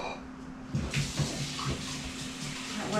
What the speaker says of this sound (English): Let me rinse this out and pour it in this.